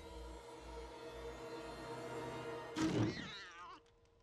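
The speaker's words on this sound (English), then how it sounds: "It's a cat." Cat in the horror video game Little Hope: a tense low musical drone gives way to a sudden loud cat yowl and jolt lasting about half a second, then fades to quiet.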